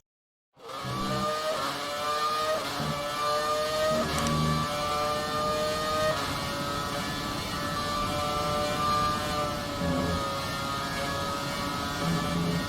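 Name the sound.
McLaren MP4-23 (2008) racing car engine in video game F1 2019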